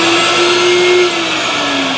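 A vacuum forming machine draws suction on a heated plastic sheet clamped over a mold, a loud close steady whine with a droning tone that drops slightly in pitch and level partway through.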